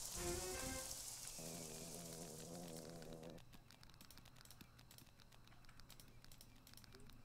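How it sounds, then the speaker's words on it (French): Rain falling in the video game Craft The World, a steady hiss of drops on a surface that runs through the whole stretch, with a tonal game sound briefly layered over it early on. "Ça pleut pas longtemps hein."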